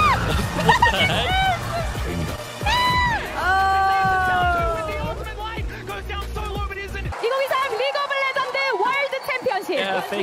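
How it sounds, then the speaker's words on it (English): An esports arena crowd at the 2023 League of Legends World Championship cheers and screams loudly, with whoops and excited shouting rising and falling over several seconds, close voices mixed in. "The crowd's going crazy."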